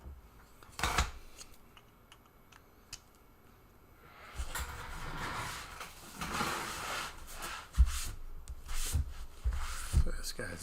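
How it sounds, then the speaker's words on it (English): Caked dirt is scraped off old PC parts in a series of close, gritty scratching and rubbing strokes, quiet at first and then busier and more continuous. "I'm going to just scrape some of this stuff off"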